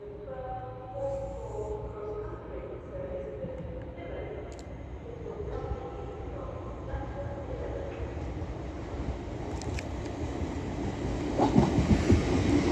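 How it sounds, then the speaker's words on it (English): A Class 801 train running from London King's Cross to Edinburgh moves through York station on the East Coast Main Line, with a low rumbling drone, faint tonal whine and rail clatter that builds louder toward the end. "801 running from London King's Cross to Edinburgh"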